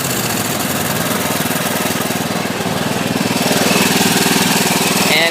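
A weedeater engine runs steadily at close range with no ignition or battery connected, giving a loud continuous buzzing drone that holds even and swells slightly near the end.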